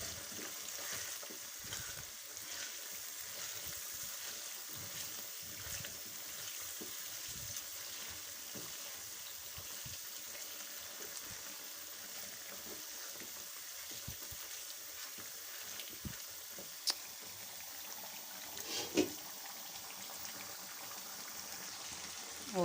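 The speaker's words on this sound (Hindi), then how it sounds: "अब हमने इसको भूनना है तेज़ आंच पर।" Chicken shanwari karahi fries hard over high heat, a steady dense sizzle running throughout with occasional scrapes and clinks of a spoon stirring the pan, no voices.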